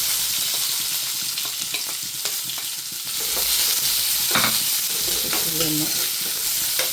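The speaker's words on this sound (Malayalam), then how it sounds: "നമുക്ക് അതിലോട്ട് കൊച്ചുള്ളി ഇടാം." Small onions (shallots) fry in coconut oil on top of popped mustard seeds and dried red chillies for a Kerala cheera chembu thoran: a close, steady loud sizzle with scraping stirs that swells after the onions drop in.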